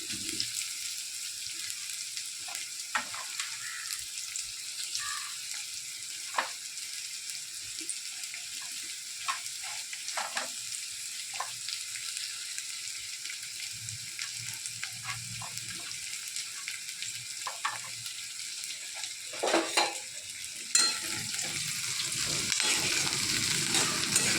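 Chopped onion, curry leaves and green chillies frying in a pan for a leafy vegetable curry, a soft steady sizzle with scattered small clicks and stirring taps, fairly faint and continuous, with brief water-like noise near the end.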